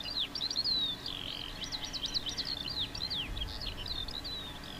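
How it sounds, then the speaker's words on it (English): Small birds chirp and twitter in quick, busy bursts throughout, fairly faint and distant over a soft outdoor background, with no voices. "Birds."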